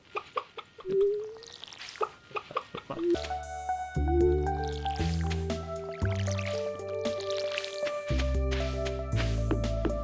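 Crops are watered in the farming video game Stardew Valley: a quick run of splashy, dripping pours plays first, then gentle chiming game music takes over, with no talk.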